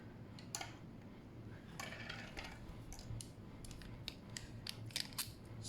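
A Delike New Moon 2 resin fountain pen nib scratches across paper in quick, close strokes, a dry irregular scritching that comes in short bursts.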